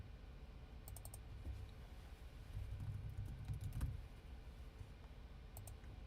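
A computer keyboard is typed on in short bursts of quiet, close clicks, with brief pauses between them, over a low background hum.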